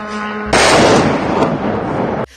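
A sudden loud blast from an overnight explosion gives way to a sustained roaring rumble that cuts off abruptly, with no voices.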